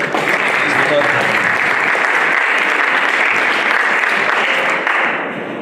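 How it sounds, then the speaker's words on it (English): Loud, dense audience applause fills a conference hall at the closing of a tech event, continuous clapping throughout, tapering slightly at the end. "So give an applause to them, because without them, this would not happen."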